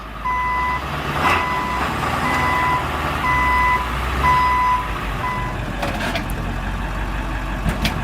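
Diesel truck reversing to drop a load of wood chips, its high reversing beeper repeating steadily over a low engine rumble, fairly loud and near.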